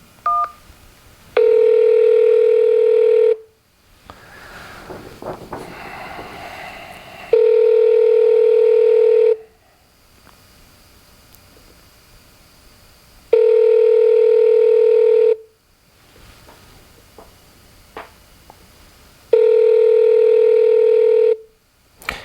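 Touch-tone telephone keypad beeps from pressing 1 on a property manager's phone line: four loud, steady tones, each about two seconds long, spaced evenly with quieter gaps of background noise between them.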